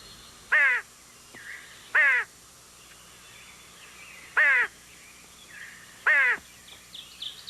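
A tame crow gives four loud, harsh caws spaced a second or two apart, alone against a quiet outdoor wilderness background.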